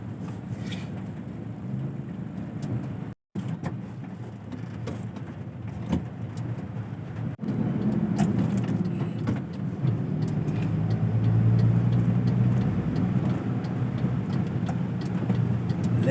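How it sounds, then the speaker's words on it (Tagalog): Heavy Saturday road traffic in Santa Cruz, Laguna, heard from inside a vehicle as a continuous low engine and road rumble, with a brief dropout partway through and a slight swell later on. "Yan po, traffic. Heavy traffic dito."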